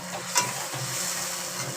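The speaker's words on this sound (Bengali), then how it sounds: "এবার এটাকে একটু কষিয়ে নেব।" Curry masala being sautéed in a pan makes a low, steady sizzle with a faint scrape of stirring, quiet and continuous over a short stretch, with no voices.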